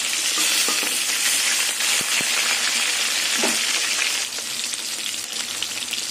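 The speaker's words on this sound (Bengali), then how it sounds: "মাছ ভাজা হয়ে গেছে, মাছগুলো তুলে নেব। আর এইভাবে সব মাছগুলো ভেজে নেব।" Close, continuous hissing sizzle of snakehead fish frying in oil, broken by a few sharp clicks of a utensil against the pan, easing slightly toward the end.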